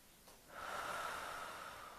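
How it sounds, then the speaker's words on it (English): During a breath work exercise for singing and relaxation, a single deep breath is drawn close to the mic. The airy rush swells after a quiet start and holds softly to the end. "take deep breaths"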